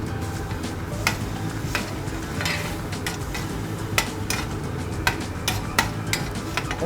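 Curd masala with green chilli and fennel seeds cooks in a pan for village-style fried chicken, giving a steady low sizzle with occasional sharp clinks and scrapes of stirring throughout.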